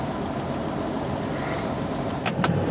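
A car heads off on a test drive after a brake job, heard as a steady, close engine-and-road rumble from inside the vehicle, with a couple of brief clicks or knocks near the end.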